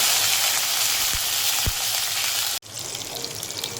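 Mustard seeds, cumin and curry leaves fry in hot oil for vermicelli upma, giving a steady close sizzle with a couple of brief low pops, then a short break before the sizzling resumes.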